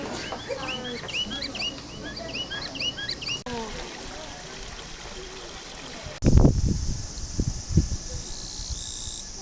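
Birds call and chirp in repeated bursts over a trickling stream background, fairly faint, followed by louder thumping knocks near the end.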